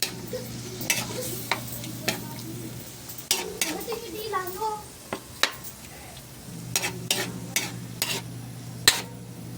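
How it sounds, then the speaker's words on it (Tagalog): Ground pork giniling being stirred in a pan: sharp, spaced spatula scrapes and clacks against the metal over a faint sizzle and low hum, close and fairly loud, with brief murmured sounds in between. "Ayan, mix lang natin yung ating giniling mga lods, kinisa"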